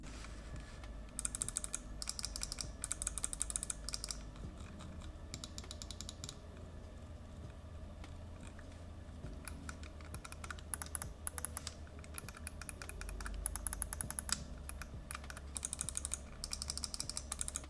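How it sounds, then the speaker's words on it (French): Rapid bursts of crisp clicks and button presses from a Cooler Master MM710 compact gaming mouse with a soft, flexible cable, close up and fairly steady over a low background hum, with no one talking. "je vous montre également ce que ça donne au niveau des clics et des différents boutons"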